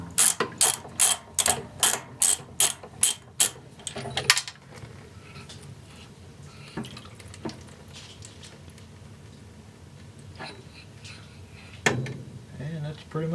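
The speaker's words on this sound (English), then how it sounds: "So we're going to take these 3 screws loose. They're a 5/16 drive." A ratchet drives out 5/16 screws on a Hotpoint washer during a water pump repair, starting with a quick run of about nine sharp, close clicks. Quieter handling knocks and a faint mechanical hum follow.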